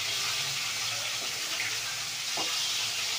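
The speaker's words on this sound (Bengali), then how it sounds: "এবার এক এক করে মাছগুলো ভেজে নেব" Hilsa fish pieces fry in oil with a continuous, even hiss that sits close and fairly loud, with no pauses and only a couple of faint soft knocks underneath.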